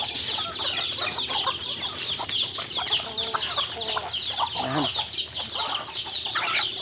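Native chickens squabble at close range in a busy flock, with dense overlapping clucks, squawks and agitated calls running continuously and fairly loud throughout.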